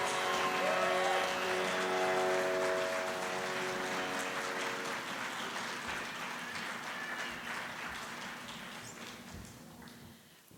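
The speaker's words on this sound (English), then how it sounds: "Can we all give one more round of applause for Harshitha?" Sustained audience applause fills the hall after an Arangetram Bharatanatyam dance debut, with sustained musical tones lingering under the clapping early on before the ovation gradually thins toward the end.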